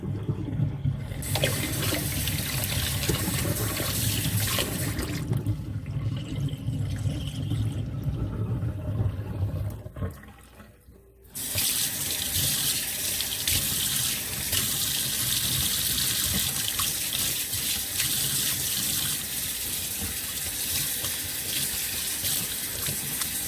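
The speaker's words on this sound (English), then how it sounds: "I'm going to drain this water and rinse" Running tap water gushes steadily into a sink while yarn is drained and rinsed, a loud continuous splashing rush that briefly cuts out and softens before the flow resumes at full strength, with no speech.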